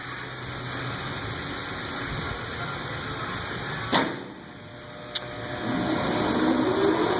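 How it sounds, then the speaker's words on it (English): A refurbished Lawson Classic paper drill runs with a steady broadband mechanical hum and hiss. A sharp clack and a smaller click break the drone partway through, and a whirring rise comes near the end. "The machine is started."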